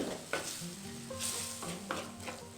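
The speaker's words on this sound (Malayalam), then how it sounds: "നമുക്കിതിനകത്തേക്ക് കുറച്ച് ഏകദേശം ഒരു 2 സ്പൂണ് വെള്ളം ഒഴിച്ച് കൊടുക്കാം." Water poured into a very hot pan of spice powders sizzles steadily while a spoon stirs and scrapes, with brief louder bursts at intervals, close and alone.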